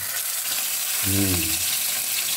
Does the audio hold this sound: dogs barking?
no